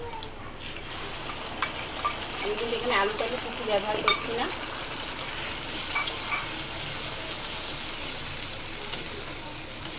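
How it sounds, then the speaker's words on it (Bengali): Spice paste fries with onions in oil in a pan as the base for a fish roe curry, giving a continuous close sizzle with occasional stirring taps. Someone talks over it throughout. "আমি এখন মশলাটা দিয়ে ভেজে নেবো ভালো করে"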